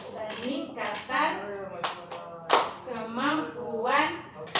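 Participants in a P2K2 family-capacity training session chant together and punctuate it with crisp collective hand claps, a few distinct sharp claps set between sung and spoken group voices.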